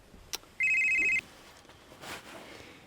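A telephone gives one loud electronic ringing burst lasting about half a second, clear and near, with quiet room noise before and after.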